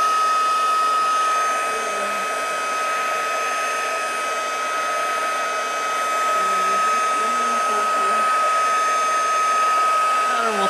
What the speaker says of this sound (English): Heat gun and emboss.